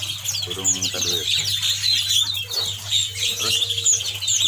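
Caged birds at a bird shop kiosk keep up a dense chatter of high chirps and calls, with some wing flapping, while a voice speaks briefly beneath them.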